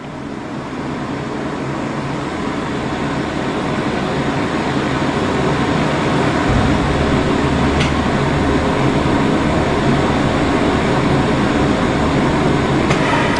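Rotor ramping up to roughly 2,000 RPM on a balancing machine, a loud continuous broadband roar and hum that swells slightly and holds steady, with no talking.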